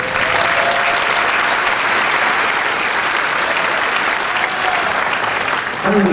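Audience applause fills a school graduation ceremony, dense sustained clapping from a large crowd in a hall, loud and even throughout the clip with no pauses.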